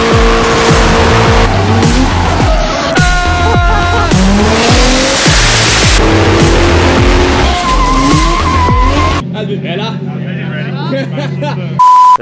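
A beginner's car drifting around a track at night, with loud, sustained tire squeal and skidding over a revving engine, continuous for most of the stretch before dropping away near the end.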